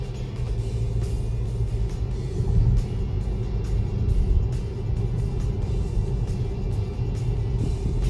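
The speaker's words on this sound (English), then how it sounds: "As you can see, a little bit much quieter motor than usual." A low, steady engine rumble hums quietly from inside a moving 2025 Volkswagen Tiguan SE R-Line, with faint road noise and no talking.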